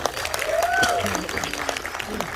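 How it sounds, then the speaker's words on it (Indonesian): Applause at a press conference for the horror film Hotel Sakura: a steady patter of clapping over two seconds, mixed with voices and a brief whistle-like tone. "Tepuk tangan untuk Om Tio."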